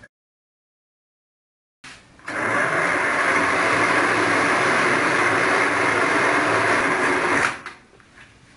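An electric blender whirs loudly and steadily for about five seconds while churning ghol, a spiced buttermilk drink, starting after a silent pause and winding down at the end.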